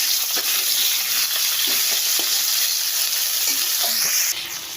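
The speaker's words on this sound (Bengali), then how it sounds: "আলুটা দিয়ে এই যে লেগি শাকগুলো দিয়ে দিই দিয়ে ভালো করে নাড়াচাড়া করি" Potatoes and leafy greens sizzle steadily in a hot pan as they are stirred, a bright continuous hiss broken by occasional spoon scrapes, close and alone, easing off near the end.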